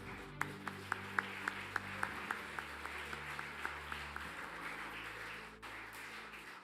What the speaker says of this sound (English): Round of applause for all our awardees.